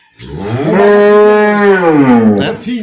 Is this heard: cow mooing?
yes